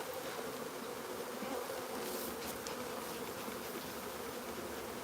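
Honey bees buzzing during a nuc transfer, a dense, steady swarm drone close by with no talk, individual bees flitting past now and then over the constant hum.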